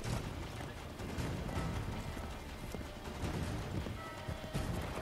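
Steady clip-clop of horse hooves in Assassin's Creed III over a dense, constant background of game noise, with a brief whinny-like sound; no talking.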